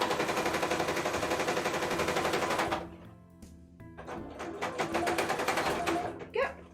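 A sewing machine runs a regular, lengthened stitch across costume fabric, giving a steady rapid mechanical chatter for nearly three seconds, then pausing and restarting in shorter close bursts.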